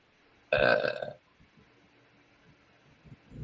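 A single loud, close burp lasting about half a second, followed by quiet room noise and faint shuffling.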